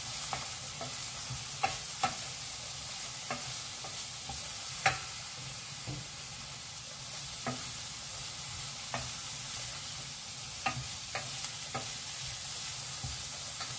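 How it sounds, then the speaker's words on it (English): Vegetables sauteing with ginger in a pan for kootu, a steady sizzle with occasional light scrapes and clicks of stirring throughout. "Saute it a little."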